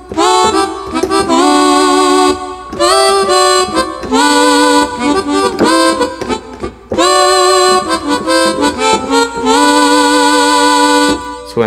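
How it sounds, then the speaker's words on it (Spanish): Korg M1 harmonica patch layered with a clarinet sound on a keyboard, playing a loud melodic line in phrases with short gaps between them, no talking. "tengo la armónica del M1. Aquí lo tengo combinado con otro sonido. Un clarinet."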